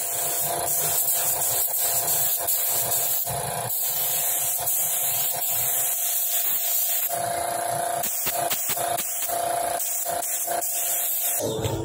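Hand sanding of a primed plastic motorcycle body cover, a steady abrasive rubbing and scraping that runs close and continuous, with uneven strokes and brief louder scuffs.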